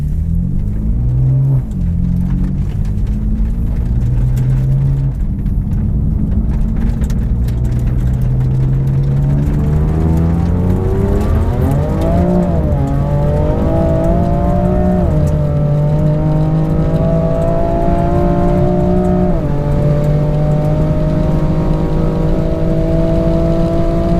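A BMW M5 runs alongside a tuned BMW M140 making about 440 horsepower in a roll race. Loud engine roar fills the whole stretch, with rising revs, gear-change dips and a sustained, close exhaust drone.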